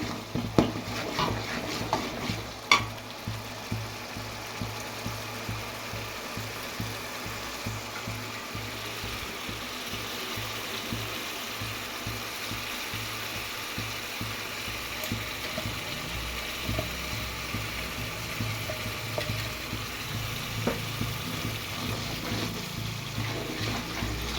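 Chicken noodles are stirred and fried in a pan with a low, steady sizzle and a busy run of clicking, scraping spatula strokes, with a few sharper knocks near the start.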